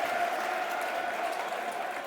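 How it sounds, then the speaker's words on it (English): Football crowd applauding at a Millwall versus Stoke City match, a steady, dense wash of clapping from a large stadium audience heard at a distance, without any talk over it. "But applause all around blocks 1, 2 and 3."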